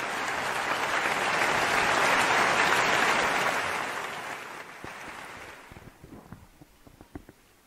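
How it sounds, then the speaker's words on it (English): A large audience gives a loud, sustained round of applause welcoming a speaker to the stage, swelling over the first few seconds, then thinning to scattered individual claps before fading. "I request you all to please welcome him with a huge round of applause."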